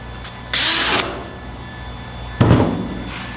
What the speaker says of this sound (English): The little tiny amount that's left, I'll just fill that with weld.